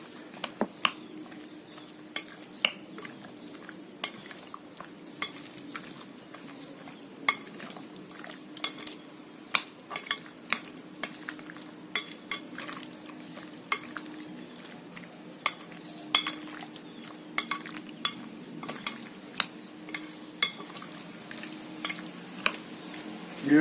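Lamb and chicken pieces with olive oil marinade are mixed in a bowl, a stream of small sharp clicks and squelchy stirring at a moderate, uneven pace, close and fairly quiet.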